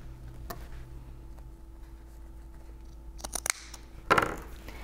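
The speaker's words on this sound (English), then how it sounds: "I'm going to trim down these bulky corners." Scissors trimming the bulky corners of a sewn fabric apron, a few sharp close snips and rustles over quiet room tone, with a louder fabric-handling burst at the end.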